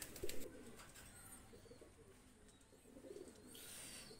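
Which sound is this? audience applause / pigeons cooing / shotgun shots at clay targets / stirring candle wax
pigeons cooing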